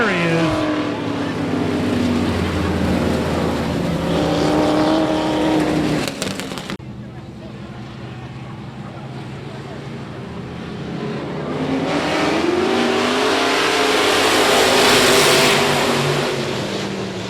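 Race cars roar around I-37 Speedway, loud engine drone rising and falling as the pack runs, dropping off sharply then building again into a full-throttle surge, with commentators talking over it.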